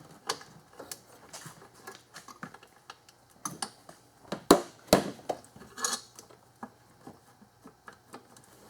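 Metal clicks and taps of a 12 mm socket wrench working a hard-to-reach bolt off the intake of a 2001 Infiniti QX4 at 150,000 miles, with irregular close ratcheting clinks and a couple of louder knocks.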